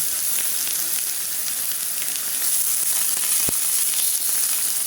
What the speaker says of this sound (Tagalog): Iprito na po natin ang ham na ating hahalo.